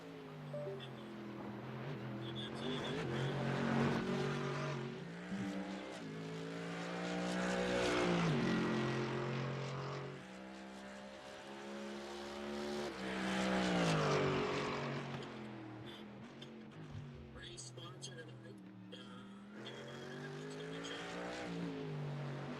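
GT3 race cars in a racing video game roar around the Imola circuit, engine notes rising and falling in pitch through upshifts and downshifts, loud and continuous with passing swells.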